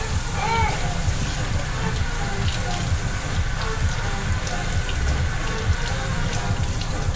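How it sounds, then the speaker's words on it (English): Russet potatoes rinsed under a running kitchen tap, a steady close splashing water stream that continues evenly throughout, with low rumbling underneath. "make sure that you rinse them off every single time"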